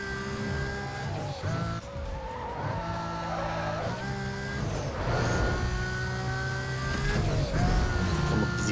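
A race car drifts through a curve in Need for Speed Most Wanted, its engine revving and shifting pitch while tires squeal and skid in repeated surges, loud and close, with no talk.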